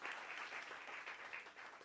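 Steady crowd applause at a live pitch event, a dense wash of clapping that holds loud and even for about two seconds with no voices over it.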